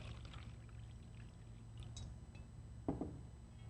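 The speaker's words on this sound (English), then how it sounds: "You take the water, pour the water into the cup." Water is poured into a cup for a slush powder magic trick, a short, faint splash near the end against quiet room tone.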